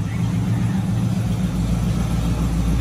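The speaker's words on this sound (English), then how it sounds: "Turnkey car, runs as I'm speaking." A Ford fastback car idling, its engine running in a steady, loud, even rumble throughout with no talking over it.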